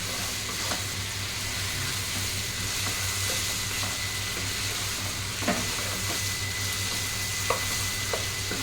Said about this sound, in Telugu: ఆయిల్ పోసుకొని డీప్ ఫ్రై చేసుకోవాలి